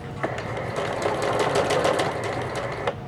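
A Janome sewing machine fitted with a black button (leveling) foot stitches jeans at a steady, fast rhythm, running continuously and close up for about three seconds with no talking.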